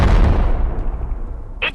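A loud explosion blast in the VR game Animal Company, a dense rumbling burst that fills the whole moment and slowly decays, with a brief bright crackle near the end.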